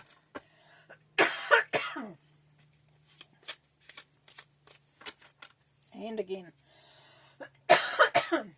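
A person coughs and clears their throat a few times between brief speech and light shuffling noises close by.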